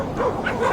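Sled dogs on sea ice bark and yip in a quick, close burst, with whimpering tones mixed in.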